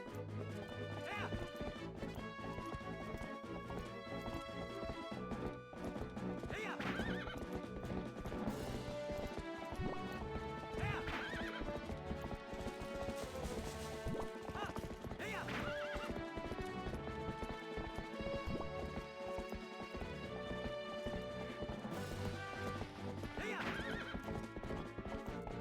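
Horse in Zelda Twilight Princess galloping with steady clip-clop hoofbeats and several loud whinnies, all over constant game music and effects.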